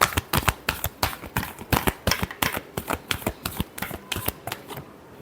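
Tarot cards are shuffled by hand in a quick, rhythmic series of crisp riffling bursts, close and clear, ending in a brief pause. No one speaks.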